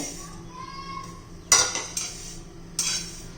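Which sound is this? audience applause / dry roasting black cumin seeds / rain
dry roasting black cumin seeds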